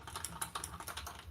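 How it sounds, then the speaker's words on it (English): Rapid, close keystrokes clatter on a computer keyboard, typed loudly and steadily with no talking over them. "She's on her typewriter."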